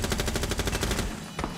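Automatic gunfire in the video game Rainbow Six Siege at an esports grand final, a rapid burst of evenly spaced shots for about a second, then a lone later shot.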